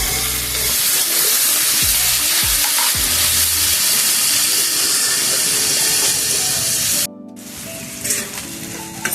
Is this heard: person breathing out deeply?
no